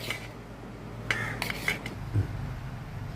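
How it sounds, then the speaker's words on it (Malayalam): A knife chops cooked fish roe on a board in a home kitchen, giving a few soft, quick taps in a short cluster over a faint background hum. "വെന്ത മീൻ മുട്ട ഞാനൊന്ന് എടുത്തിട്ട് ചെറുതായിട്ടൊന്ന് അരിഞ്ഞു വെക്കുകയാണേ"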